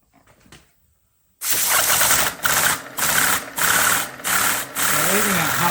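A steam rotary engine drives a small 3D printed serpentine-coil generator, running loud and steady with a mechanical chatter after a quiet start, its drone broken by a few brief dips.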